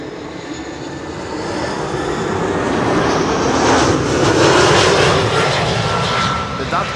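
A Vueling jet arriving from Valencia at Amsterdam Schiphol roars close by, its engine noise swelling louder toward the middle and holding strong as it passes, with a voice talking over it.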